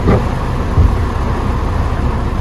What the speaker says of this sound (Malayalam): നല്ല മഴ ഇങ്ങനെ പെയ്തുകൊണ്ട് നല്ല തണുപ്പുണ്ട്.